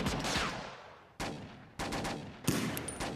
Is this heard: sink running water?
no